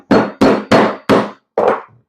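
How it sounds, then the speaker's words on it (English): A hammer strikes overly long nails down into scrap wood, five sharp, loud, close knocks in an even rhythm, the last blow slightly softer, with no talk. "grab a hammer and put those nails down"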